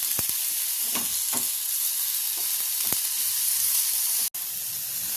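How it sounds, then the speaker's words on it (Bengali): Onion fries with ginger-garlic paste in a pan, making a constant bright sizzling hiss close by, broken by a few soft stirring knocks and one sharp click. "তো এখানে আদা রসুন দিয়ে তো পেঁয়াজ দিয়ে আমি কিছুক্ষণ এটাকে ফ্রাই করে নিয়েছি"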